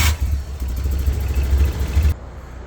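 A Damas minivan's gas-fuelled engine idling rough and shaking, close and loud, with an uneven low throbbing rumble for about two seconds before it drops away.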